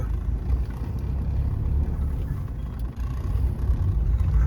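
Car traffic on a crowded road in a jam, heard from inside a moving car on a road trip: a steady low rumble of engines and tyres with constant dense background noise and no talk.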